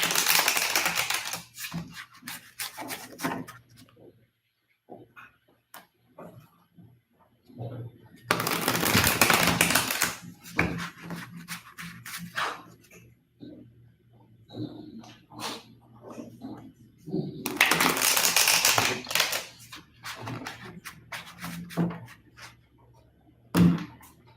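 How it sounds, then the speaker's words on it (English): Tarot cards are riffled and shuffled in long, crisp bursts, repeated a few times, with quieter handling noises and a voice talking in between. "The shuffle felt really smooth, really relaxed, really easy."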